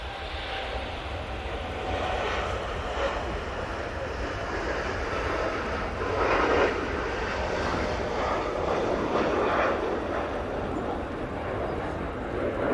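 Qatar Airways airliner on its takeoff roll at Manchester Airport, a steady broad engine roar heard from a distance that swells slightly midway and holds throughout, with no talk over it.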